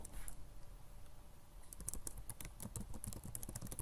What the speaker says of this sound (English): you can just go to Google and type Facebook